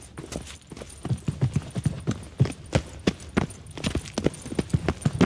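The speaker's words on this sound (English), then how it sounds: "Footsteps." Hooves clip-clop in a steady, fairly loud rhythm of repeated hoofbeats in The Witcher 3: Wild Hunt, heard alone without talk.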